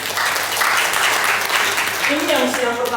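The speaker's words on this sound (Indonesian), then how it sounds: "Tepuk tangan buat kita." Audience applause at a business seminar in Makassar, a dense steady patter of many clapping hands filling the room, with some voices rising near the end.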